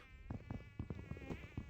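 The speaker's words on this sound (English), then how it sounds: "Can I hear a bee?" Insect-like buzzing from a bee in the Minecraft RLCraft mod, a steady droning hum with repeated pulsing bursts close up, loud and alone.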